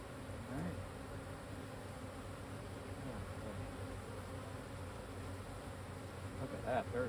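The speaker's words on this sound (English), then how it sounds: "They're buzzing my veil like crazy." Honeybees buzz steadily and close around a beekeeper's veil during a hive inspection, a dense continuous drone that swells slightly near the end.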